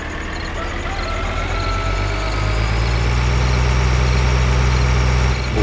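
A Bucher 6135 tractor engine in Farming Simulator 2013 idles with a steady low throbbing rumble, loud and close, holding an even pitch throughout with a slight rise near the end.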